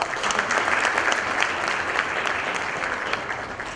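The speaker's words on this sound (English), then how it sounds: "Let's welcome him with a huge round of applause." A hall audience at a technology conference presentation in Nepal claps in a steady, dense round of applause that holds at an even, loud level throughout without a break.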